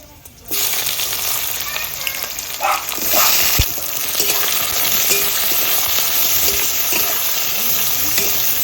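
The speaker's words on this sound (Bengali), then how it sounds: "পেঁয়াজটা লাল লাল করে ভাজা হয়ে গেছে" Onions fried until reddish in a pan with fresh bay leaves burst into a loud sizzle as they hit the hot oil, then keep up a steady crackling hiss with occasional stirring clatter.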